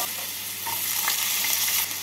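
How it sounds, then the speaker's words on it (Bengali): Potatoes are stirred while they fry in hot oil, giving a loud, close, continuous sizzle with faint scraping of the spoon underneath. "আলুটা একটু নাড়াচাড়া করে নেব।"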